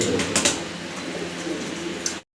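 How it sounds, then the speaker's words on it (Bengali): Fancy pigeons cooing at a pigeon market, with soft repeated low coos over a steady murmur of background noise and a few brighter chirps, fairly close and continuous. "আমরা আরও একটা চমৎকার বর্তমান সময়ের একদম জনপ্রিয় কবুতর দেখাচ্ছি আপনাদেরকে"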